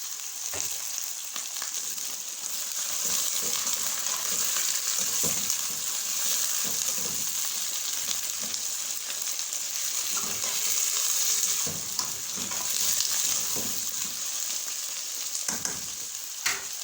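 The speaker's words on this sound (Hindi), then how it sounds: "अब हम इसमें चिकन डाल देंगे।" Chicken sizzles loudly in hot oil with browned onions for a spicy chicken pasta, a continuous close crackle broken by repeated stirring scrapes, with no talk.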